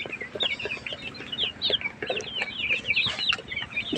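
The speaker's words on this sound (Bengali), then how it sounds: "আর এই যে আমার মুরগিগুলা, আলহামদুলিল্লাহ মুরগিগুলো এখন ঠিক হচ্ছে" Chickens cluck steadily and close by on a farm that also keeps cows and ducks, with overlapping calls and a busy, continuous flock chatter throughout and no talking.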